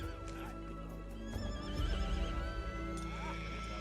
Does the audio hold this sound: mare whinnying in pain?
yes